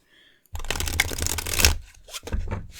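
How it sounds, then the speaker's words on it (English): A tarot card deck is reshuffled up close, with a long riffling burst of cards followed by a couple of shorter shuffles and taps, after a faint tone at the start. "Let's do a reshuffle"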